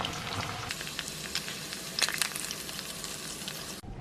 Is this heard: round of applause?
no